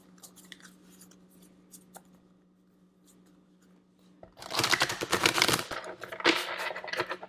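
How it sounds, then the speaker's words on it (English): Tarot cards being shuffled by hand: soft, sparse handling noises at first, then a loud, dense burst of close riffling and flicking in the second half, with no talking. "We're going to continue to shuffle."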